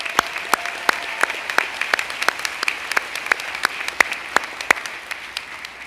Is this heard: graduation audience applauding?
yes